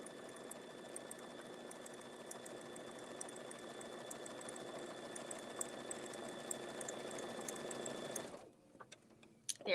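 An embroidery sewing machine stitches the letter edges on an apron, a steady close whirring hum that runs for about eight seconds and then stops, leaving near silence.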